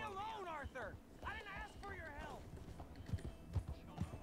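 Horse hooves clip-clop in the Red Dead Redemption 2 video game, a quick irregular patter near the end, following whinny-like calls and under a voice.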